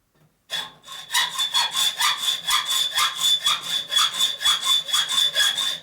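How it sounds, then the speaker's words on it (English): A hand saw cuts a quarter inch off a 1941-72 Harley WL motorcycle top motor mount, rasping in quick, even back-and-forth strokes, about three per second, loud and close, with no voices. "Cutting a 1/4 inch off."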